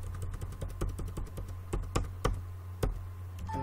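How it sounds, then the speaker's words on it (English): Keystrokes on a computer keyboard during accounting-software data entry, a steady run of sharp clicks with a few heavier taps, close and fairly quiet over a low hum. "Press enter button in the keyboard."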